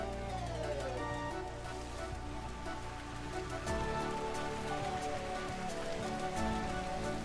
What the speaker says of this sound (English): It kind of works against us that it's raining right now